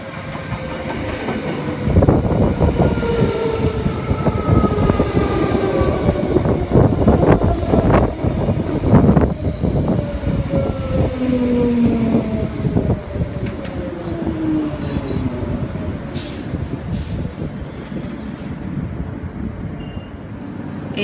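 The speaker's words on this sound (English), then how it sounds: "There's a Nambour service arriving into Platform 4 at Toombul." An electric multiple-unit Nambour service pulls into Platform 4 at Toombul station, with loud, steady rail rumble, rhythmic clickety-clack over the joints, gliding brake squeals and gusty wind buffeting the microphone, all without talk.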